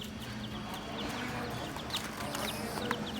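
A chicken clucking nearby in short repeated calls over a faint background hum, brief and fairly quiet, no clear talking.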